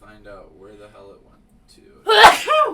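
A single sharp sneeze bursts out after stretches of conversational talk, loud and close, with a brief breathy tail.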